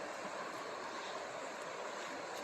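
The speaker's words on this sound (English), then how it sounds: "There's some rapids." Rapids on a river beside a highway pull-off rush in a steady, even wash of broadband water noise, fairly faint and continuous with no voices over it.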